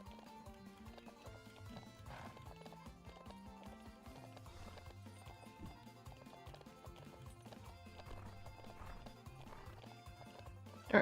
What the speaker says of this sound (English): Alright, we got a canter to get our stamina back.